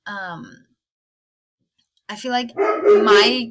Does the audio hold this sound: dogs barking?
yes